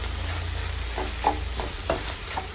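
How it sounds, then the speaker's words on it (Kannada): Ridge gourd palya cooks in a pan with a soft continuous sizzle, and a spoon scrapes and stirs it in a few distinct strokes close by. "ಈ ಕಡೆ ನಮ್ಮ ಪಲ್ಯ ಬೇಯ್ತಾ ಇದೆ"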